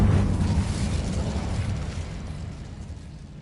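An Incendio fire spell is cast in Hogwarts Legacy, releasing a loud, rumbling burst of flame that slowly fades over a few seconds.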